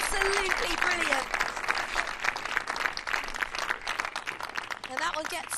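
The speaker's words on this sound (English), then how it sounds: "that one gets a big round of applause from the Spanish crowd" A Spanish crowd applauds steadily at a junior Billie Jean King Cup tennis semi-final, a dense, sustained round of clapping with a commentator talking over it.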